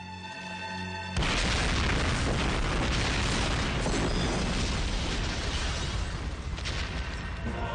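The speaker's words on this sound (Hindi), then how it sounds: "यहाँ बम फटने वाला है।" A bomb explodes with a sudden loud blast that cuts off brief tonal music, then rolls on as a long, dense roaring rumble that slowly fades.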